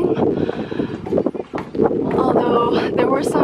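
Strong wind gusts buffet the microphone near the summit of Mount Fuji, a steady loud rumble with surging bursts lasting throughout, with some people talking in the background.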